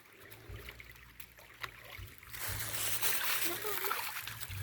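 Water splashes and sloshes as people wade through it, growing into a steady, close churning from about the halfway point while voices talk over it.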